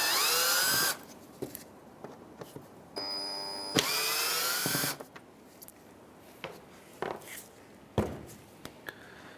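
Cordless power drill spinning out Phillips screws from the grille of a 2015–2019 Hyundai Sonata, a few close, whining bursts of rising motor pitch separated by quieter handling clicks and taps.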